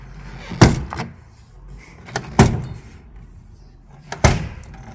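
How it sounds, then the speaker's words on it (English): Plastic clips popping out of a car door panel during trim removal: three sharp, loud snapping pops spaced about two seconds apart, each with a short rattle after it, close and alone. "So now I very carefully pop these clips out of the door without letting them fall out of the panel."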